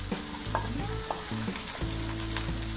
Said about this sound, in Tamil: எல்லாத்தையும் ஆட் பண்ணி நல்லா வதக்கலாம்.